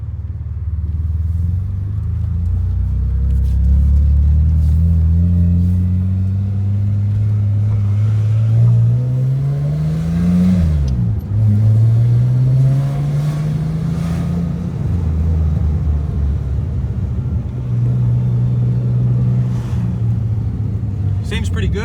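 A Nissan R31 Skyline on the road after a 4.11 diff install, its engine droning steadily close by with rising and falling pitch through gear changes, carried under ongoing talk.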